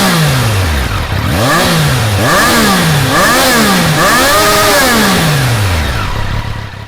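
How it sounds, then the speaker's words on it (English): A Triumph Daytona 660 sportsbike accelerates hard through several gears, its engine note rising and dropping with each shift, loud airbox induction roar and close, sustained revving throughout, with no talking. "under acceleration there's actually quite a lot of airbox induction noise from this bike, to the point where it actually seems pretty loud"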